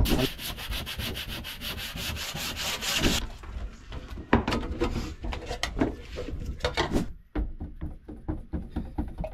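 Rapid back-and-forth scratching of sandpaper on a painted surface, steady rhythmic strokes up close, slowing into separate rubs before pausing.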